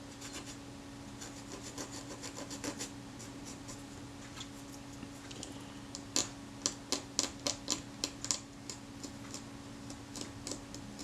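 A wooden toothpick rubs and scrapes at a small part of a Retina camera in a series of quick, faint scratching strokes, with a brisker cluster partway through, set against a quiet background hum.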